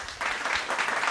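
A church congregation claps for someone during a Tamil sermon, a dense, steady burst of applause that fills the hall and holds for about a second.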